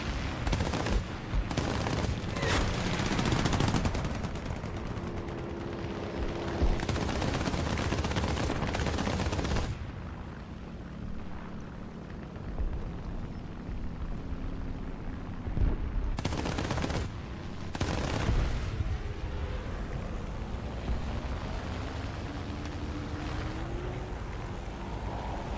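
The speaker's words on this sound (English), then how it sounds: "Man, I love these guns." Video game guns fire in repeated bursts of sharp shots, loud and dense at first, then sparser volleys over a steady low engine-like rumble.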